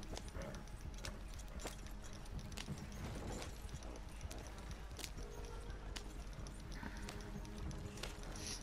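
Horse hooves clip-clop steadily through the Red Dead Redemption 2 video game, a busy rhythmic clatter that runs the whole stretch under a dense layer of game ambience.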